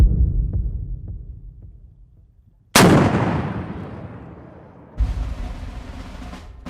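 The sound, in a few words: AT4 anti-tank weapon being fired by instructors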